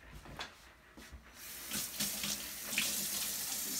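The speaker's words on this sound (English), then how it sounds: "And now I'm going to wash my hands." A kitchen or bathroom tap runs for hand washing. A few light knocks come first, then a steady, close hiss of flowing water swells and continues to the end, with no voices.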